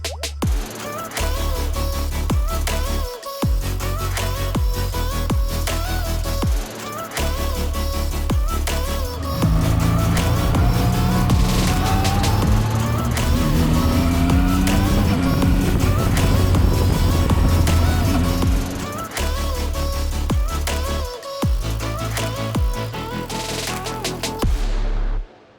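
A Zontes 703 F three-cylinder adventure motorcycle is ridden, its engine droning loudly and continuously with rising and falling revs and gear changes, close and dominant throughout with a brief drop near the end.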